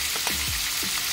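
Garlic ginger paste and onion fry in a pan with a continuous loud, bright sizzle, heard up close with no talking.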